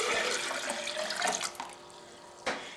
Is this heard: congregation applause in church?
no